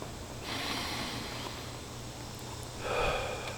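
Slow, deep breathing during a relaxation exercise: a long airy inhale for about two seconds, then a stronger, louder exhale near the end, close and steady with no talking.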